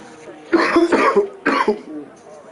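Several harsh coughs close to the microphone in two bursts, with a short pause between them and a throat-clearing tail.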